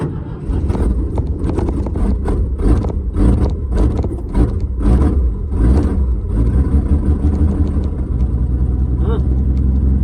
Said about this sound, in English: I was putting my foot on the gas a little bit and acted like it was, flooding a little bit